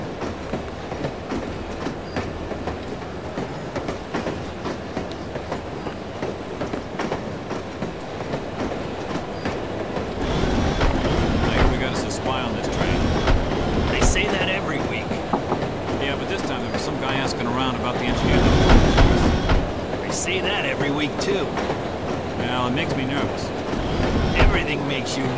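A train rolling along rails in the No One Lives Forever video game, a steady rumbling clatter of wheels that swells louder midway, with voices talking over it.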